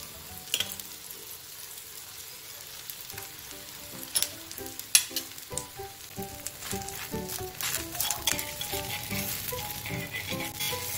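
Wheat flour dhirde frying in oil on a pan, a steady bright sizzle with crackling spatters and occasional clinks of a spatula, close and continuous throughout.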